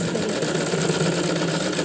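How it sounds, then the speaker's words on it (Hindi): A sewing machine runs steadily, stitching the front part of a smocking frock, a close, even mechanical whir with no pauses and no talk. "इस पर हम सिलाई कर देंगे एक बार"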